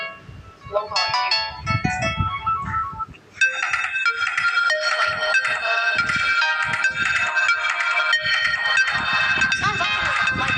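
Samsung Galaxy A14 ringtone with a piano sound plays a bright melodic tune, a short phrase and then a fuller repeating melody, steady and clear with people talking faintly underneath.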